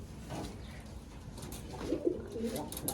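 Pigeons coo softly in a home loft, a few low throaty calls rising near the end over a quiet background with faint room noise.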